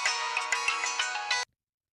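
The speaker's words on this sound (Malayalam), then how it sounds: "എൻ്റെ ഫോൺ റിങ്ങിയുണ്ട്" A mobile phone ringtone plays loudly and close by as a steady, bright electronic melody with a regular pulsing beat, then cuts off abruptly after about a second and a half.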